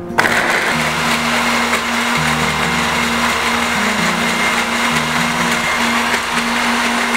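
A blender whirs loudly and continuously while blending ingredients for stir-fried tempeh and green beans, its motor pitch shifting slightly as it runs, close up with no talking.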